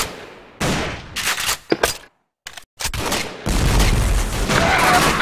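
Gunfire in the online shooter Warrock Online, with bursts of rapid automatic fire and single sharp shots, loud and close, broken by brief gaps before a sustained stretch of shooting.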